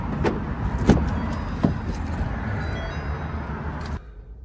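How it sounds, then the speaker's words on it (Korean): Door locking on a 2021 Ford Ranger Wildtrak, triggered by touching the recessed spot on the handle: a few short clicks and clunks near the door over faint outdoor background noise, ending abruptly. "이쪽 부분을 움푹 들어간 부분을 터치를 하시면 문을 잠글 수 있습니다"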